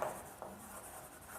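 Faint writing strokes on a board in a Class 10 mathematics class on polynomials, a soft rubbing scratch with a brief louder stroke partway through and a quiet room with no speech.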